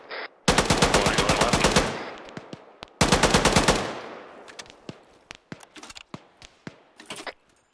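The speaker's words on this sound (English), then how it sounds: "Bravo, you're taking a lot of fire." Two long bursts of rapid automatic gunfire ring out in a military squad-training video game. Scattered single shots and sharp impacts follow, growing sparser toward the end.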